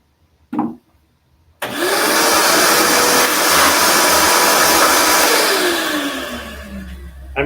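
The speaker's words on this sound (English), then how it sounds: "So anytime you're using a router" A router cuts a heart-shaped wooden cutting board along a template. After a short knock, a loud, steady whining roar holds for several seconds, then the motor winds down with a falling pitch.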